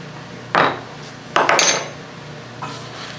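Frankincense resin being ground up, heard as three separate bursts of sharp, gritty scraping and crunching, close and fairly loud, with the middle burst longest and quiet pauses between them.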